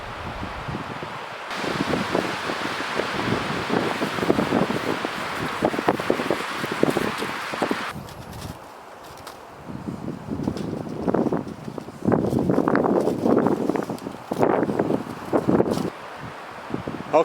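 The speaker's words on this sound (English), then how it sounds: "It was a nice day, but once again the wind picked up." Gusty spring wind blows outdoors on a Minnesota farm, a rushing, buffeting roar that swells and eases in waves with rustling and microphone buffeting, no talk.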